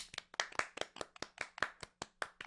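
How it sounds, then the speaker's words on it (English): A small group claps hands in a slow, regular rhythm, with about a dozen distinct, crisp claps spread evenly and heard close but quiet, with no speech. "Everybody clap your hands."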